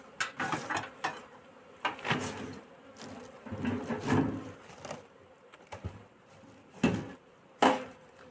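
Honeybees buzz around an opened hive colony, a faint continuous hum broken by sharp knocks and scraping of wooden frames and tools.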